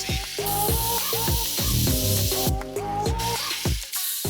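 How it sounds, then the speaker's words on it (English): A spray bottle hisses in bursts as bug remover is sprayed on a dirty Subaru, over upbeat background music with a steady beat. "this close-up shows me spraying some PNS bug off to melt them away"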